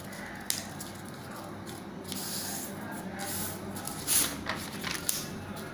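Paper being folded for a craft peacock gives soft rustling and crinkling throughout, with a crisper crackle near the end, close and fairly quiet with no voices.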